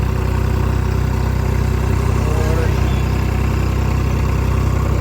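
A new tractor engine idles with a steady low rumble and fast regular pulsing, loud and close throughout, while a voice speaks briefly over it.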